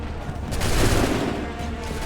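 A musket volley fired by a line of soldiers in Assassin's Creed 3, one loud rolling blast of many shots blending into a booming rumble that fades out.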